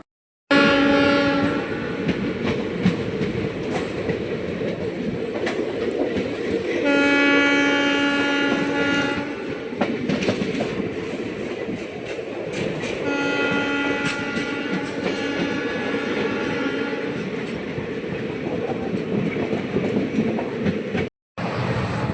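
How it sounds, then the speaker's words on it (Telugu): A passenger train departs Guntur and runs steadily, its loud horn sounding in several long blasts over continuous rumbling and rhythmic clickety-clack of wheels on rails, close and sustained throughout. "గుంటూరు నుంచి ట్రైన్ బయలుదేరింది"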